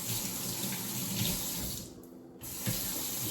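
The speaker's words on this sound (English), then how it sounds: "So I'm gonna wash my hands." Tap water runs steadily into a sink for hand washing in a home kitchen while cooking stuffed chicken breasts, a close broadband rush that dips briefly as the flow is interrupted, then resumes.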